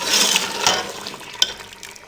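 Mutton stirred into a cup of cooking oil in a pot for dhaba-style mutton palak, giving a short burst of scraping and hissing sizzle that fades, with one sharp metallic clink near the end.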